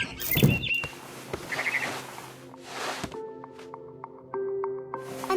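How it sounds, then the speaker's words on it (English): Barn swallow in the video game What Remains of Edith Finch, heard as a few short chirps and flutters over ambient game sound, followed by sustained tonal game music. "It was a barn swallow going back to her nest."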